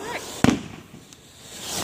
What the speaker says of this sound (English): Big fireworks, and this is the little one.